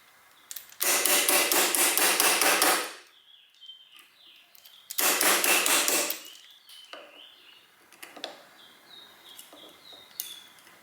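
A hammer taps out the rear pin of a Remington 700 rifle trigger in two quick, rapid-fire runs of sharp close strikes, followed by a few scattered taps and faint bird chirps.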